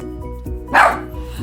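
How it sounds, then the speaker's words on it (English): A small chihuahua gives a single sharp bark in the background of an indoor room, over a steady low hum, while someone straightens curly hair with a flat iron. "that's my dog in the background"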